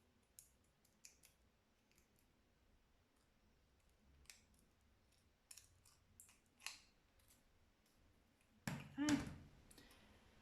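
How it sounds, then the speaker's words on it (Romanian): Scissors snip along the edges of a crepe paper leaf to make fine serrations, giving scattered quiet clicks and short cuts with gaps between them and a louder burst near the end, under soft talk. "Și acum mai trec încă o dată cu foarfeca pentru a realiza zimții și mai mărunței."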